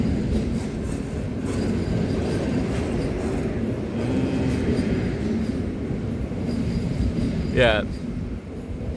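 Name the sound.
train passing by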